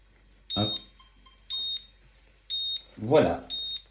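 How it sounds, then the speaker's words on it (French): AMC Audiotherm cooking-timer signal marking the end of cooking on a hob, sounding as a steady series of four short, clear electronic beeps about a second apart, with brief talk over one of them. "Dès que le temps de cuisson sera terminé, un signal sonore va nous indiquer"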